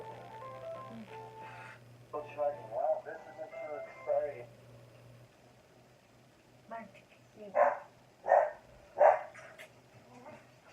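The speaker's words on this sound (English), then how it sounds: "there's the dog barking again" Dog barking in the background of a makeup session, a few distant barks followed by three louder, evenly spaced barks, with someone talking intermittently.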